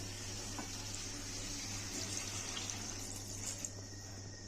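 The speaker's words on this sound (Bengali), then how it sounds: "জল দিয়ে দেবো।" Water poured from a tap into a pan of egg biryani masala in a home kitchen, a continuous soft splashing rush under a low steady hum, fairly quiet and unbroken.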